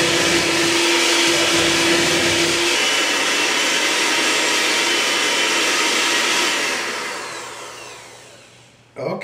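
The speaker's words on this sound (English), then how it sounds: "I beat this on a high speed for about 3 minutes now" An electric mixer beats bread dough on high speed, a loud steady motor whir that holds for several seconds, then fades out and cuts off near the end.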